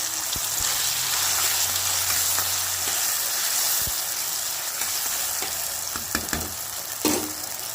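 Tomato pieces and green chillies frying in hot oil, a loud continuous close sizzle with a few sharp clinks and stirring knocks, no voices.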